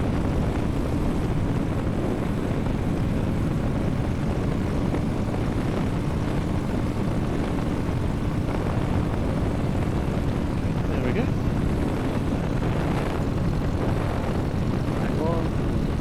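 Flexwing microlight engine held at 3000 rpm for magneto checks, a steady, loud, continuous propeller drone filling the whole stretch with constant wind and engine noise, no pauses.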